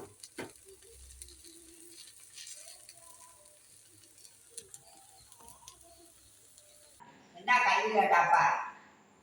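Paniyaram cooks in a pan while people talk and a dove coos faintly. Near the end a sudden loud burst of sizzling frying lasts about a second.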